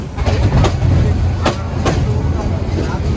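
The Jamuna Express from Dhaka to Jamalpur rolls along in the evening, heard from inside as a loud, close, continuous low rumble with a few sharp clacks and rattles breaking through.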